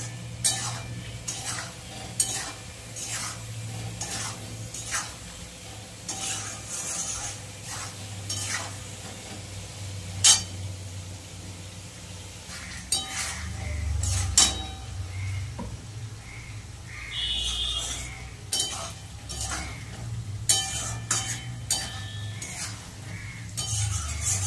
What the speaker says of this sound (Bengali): আলু আর পটল মশলা দিয়ে ভালো করে কষিয়ে নেব।